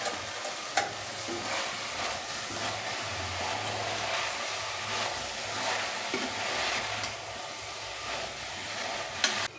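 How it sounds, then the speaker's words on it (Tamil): Peas and cauliflower sautéing with masala in a pan for a cauliflower pea biryani. A steady, close sizzle carries on throughout, with a couple of sharp clinks from stirring. "மசாலாவோட பட்டாணியும் காலிஃப்ளவரும் நல்லா ஒரு 2 நிமிஷம் அப்படியே வதங்கட்டும்"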